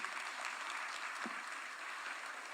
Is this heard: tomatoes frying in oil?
no